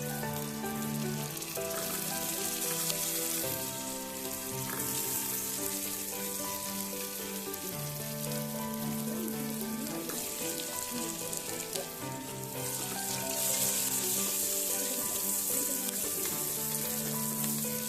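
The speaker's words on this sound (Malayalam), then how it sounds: "അതിലോട്ട് തന്നെ ഞാൻ ഈ പച്ചമുളകും ചെറിയുള്ളിയും വെളുത്തുള്ളി, ഇഞ്ചി, അതുപോലെ വലിയുള്ളിയും ചേർത്ത് നന്നായി ഒന്ന് വഴറ്റിയെടുക്കുന്നുണ്ട്" Green chillies, shallots, garlic, ginger and onion sauté in a pan for butter chicken, giving a steady soft sizzle and crackle beneath prominent background music, with no talking.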